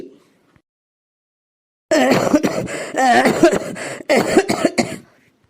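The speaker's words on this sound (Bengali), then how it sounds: "গলায় একটা মাছের কাঁটা আটকে আছে তাই কাশি পাচ্ছে" A person coughs hard in several bursts from a fish bone stuck in the throat, loud and close after a quiet start, with a few throaty catches between the coughs.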